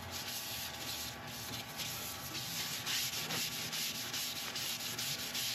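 A finish is rubbed onto an American black walnut bowl, a steady close scratchy rubbing and brushing sound that runs continuously with slight strokes, no talk over it.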